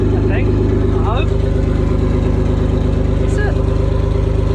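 A car engine fitted with a newly installed boot-mount turbo idles loudly and steadily with a pulsing low rumble, while voices talk faintly over it.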